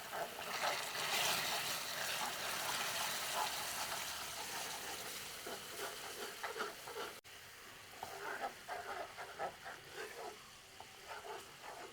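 Steady, dense sizzling and crackling as water is poured little by little into melted caramelized sugar for a Christmas plum cake. The hiss holds close and loud throughout with small irregular bursts, and no voices.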